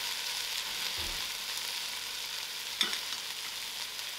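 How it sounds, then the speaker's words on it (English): Onions sweating in a pot for onion soup, stirred steadily with a soft continuous sizzle and an occasional scrape or knock of the spoon against the pot, close and fairly quiet with no talk. "And I will keep stirring this till it gets soft."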